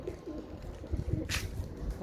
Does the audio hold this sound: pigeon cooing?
yes